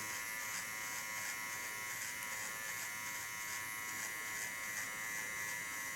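An electric hair clipper buzzes steadily and close up for the whole stretch while it trims sharp lines into a client's hair, with no talking over it.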